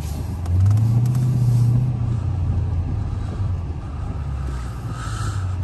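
A Dodge SRT's engine drones low and steady while driving at night, with a deeper swelling rumble early on, heard from inside the car.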